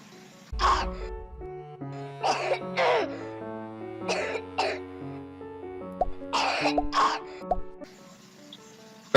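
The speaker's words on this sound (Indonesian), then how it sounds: "Batuk yang menyakitkan atau miserable" A child's painful, miserable cough comes in a series of harsh, strained bursts with short pauses between them. It is close and fairly loud.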